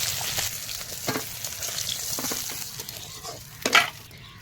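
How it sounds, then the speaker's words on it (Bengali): Shol fish frying in hot oil in a pan, a steady crackling sizzle with scattered pops and a few sharper stirring or scraping knocks near the end, no voices. "মাছটা আমার ভাজা হয়ে গেছে"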